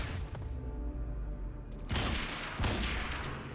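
Gunfire and impacts in the video game Quantum Break, a couple of loud broadband blasts over a rumbling background, close and forceful.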